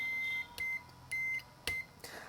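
A multimeter in continuity mode beeps while probing a Samsung LED TV circuit board to ground: four clean, steady tones of varying length in an even on-off pattern, close and fairly loud, with a faint click between them.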